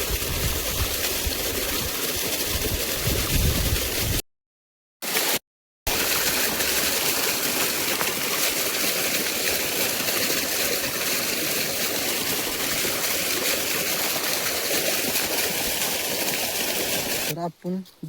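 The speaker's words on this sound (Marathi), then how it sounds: "पाणी कसं चाललंय शांत." Water flows calmly along a stream as a steady, broadband rushing wash, moderately close and continuous, with a brief dropout partway through and no voices.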